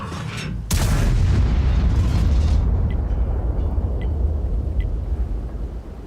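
Waffentraeger tank destroyer in World of Tanks firing a high explosive shell: a sharp loud blast followed by a long low rumbling roar that slowly fades, with faint distant pops afterward.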